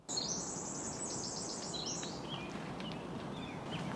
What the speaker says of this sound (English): All different kinds of birds?